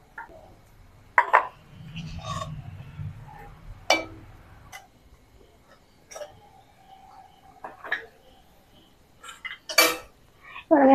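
A spoon scoops halwa into a bowl, giving scattered close metallic clinks and taps against the bowl with quiet scraping between them, irregular and fairly faint, no talking.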